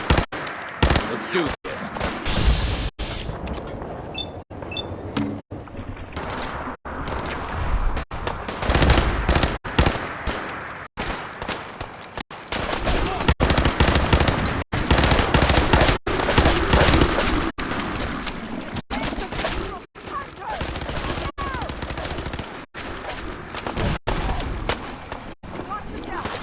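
Sustained gunfire in the Fallout video game, with rapid automatic bursts and single shots cracking almost nonstop across a loud battle, and a voice briefly speaking over the shooting.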